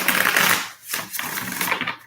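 A deck of tarot cards shuffled by hand on a table, producing loud, rapid riffling clatter in several bursts with brief pauses between them.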